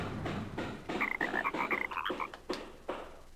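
Repeated frog croaks from a video game character, a string of short chirping calls in quick succession, mid-level and clear with no talking over them.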